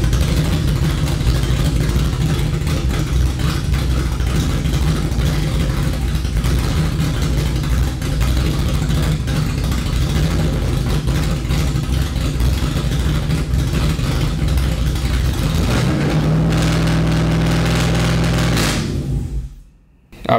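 A Chevy S10 with an LS V8 swap idles loudly with no muffler, exhaust exiting straight out the Y pipe, a steady deep rumble that runs close and continuous before cutting off abruptly near the end.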